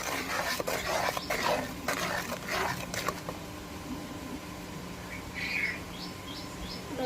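Chilli powder being stirred into mutton in a pan, a scraping, rustling stir over the first three seconds that then fades, leaving a quieter stretch with faint bird chirps near the end.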